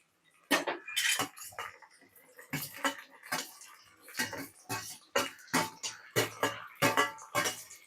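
A spoon clatters against a pan while carrots, beans and peas are stirred in, making a quick, irregular run of close metallic scrapes and clinks with no talking.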